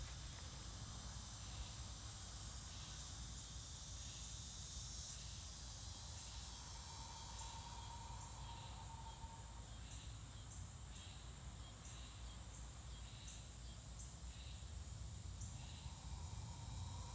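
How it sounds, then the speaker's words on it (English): Cicadas sing outdoors in a steady, pulsing high-pitched buzz that carries on throughout, fairly faint and continuous with no talking. "As the cicadas sing."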